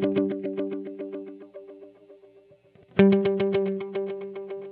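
A Strymon Volante multi-head echo pedal repeats a plucked guitar note in evenly pulsing echoes that fade, then a fresh loud note starts repeats that thicken and smear as they stack.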